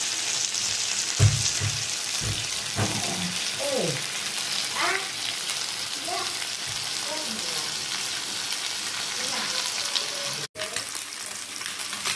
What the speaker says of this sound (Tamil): மீன் இப்போ நல்லா ரோஸ்ட் ஆகிடுச்சு